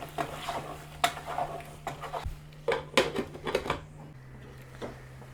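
Masala with coriander and lemon juice is sautéed in a pot for lahm majboos, the Arabian meat and rice dish, with irregular spoon scrapes and clatters against the pot over a low steady hum, close and moderately quiet.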